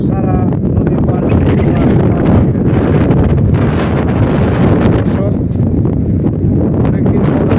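Strong wind gusting over a river as rain begins, a loud continuous roar buffeting the microphone close up.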